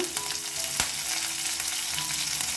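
Garlic, slit green chilies, hing and curry leaves fry in hot oil with a loud, continuous crackling sizzle, broken by one sharp pop early on and quick spattering throughout.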